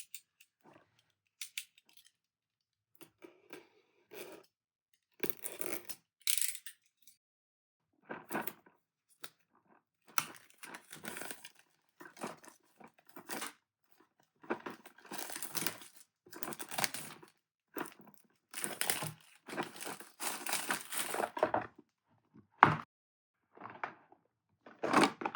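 Packaging of an Arrtx 60-piece acrylic marker set being opened by hand, a series of close crinkles, tearing and cardboard rustles in irregular bursts separated by quiet gaps.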